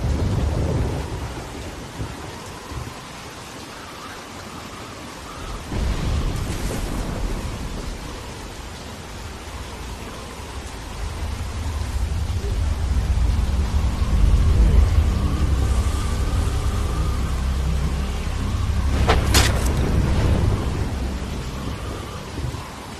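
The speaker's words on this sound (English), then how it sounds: "We gotta get inside, Lee. We don't wanna get struck by lightning." A video-game thunderstorm from The Walking Dead game: steady rain hisses throughout, with rolling thunder growing loud and low in the middle stretch and a sharp crack of lightning near the end, no voices.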